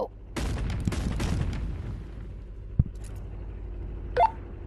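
Gunfire in an Animal Company video game gun battle comes as a dense burst of rapid booming shots, then a single sharp crack and a brief high-pitched tone, with no talking.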